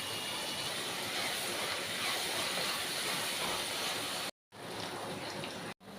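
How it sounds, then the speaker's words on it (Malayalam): Small onions sizzle in hot oil in a pan, a loud, steady frying hiss with two brief cuts to silence near the end. "ഓയിൽ ചൂടായി വരുമ്പോൾ നമ്മൾ ഈ ഉള്ളിയൊക്കെ അതിലേക്ക് ഇട്ട് കൊടുത്ത് വഴറ്റുക."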